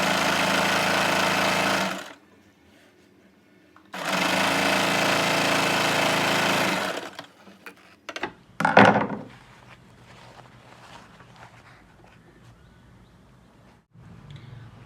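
A sewing machine stitches pintucks along a neckline in two loud, steady bursts of whirring motor and needle hum, each lasting a few seconds. Clunks and handling knocks of the fabric and machine follow, then quieter rustling.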